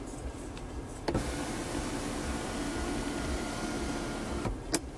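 The motorized sunroof and shade of a 2015 Nissan Murano Platinum close with a steady electric whir inside the car, bracketed by soft clicks at start and stop.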